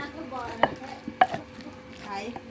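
A knife chops ingredients for khanom jeen sauce, a few sparse, sharp cuts on a board spaced apart in a quiet kitchen.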